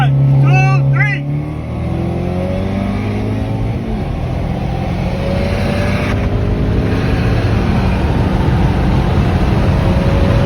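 A Honda Civic Type R with a Phearable Stage 2 tune accelerates hard. Its engine note climbs through rising gear sweeps in a loud, sustained roar with wind noise, and a voice is heard briefly at the start.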